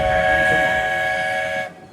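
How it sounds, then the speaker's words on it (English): The Lilly Belle 2-6-0 steam locomotive of the Walt Disney World Railroad arrives at a station with a loud, sustained multi-tone steam whistle over rumbling wheels. The whistle cuts off abruptly near the end. "please wait until the train has come to a complete stop"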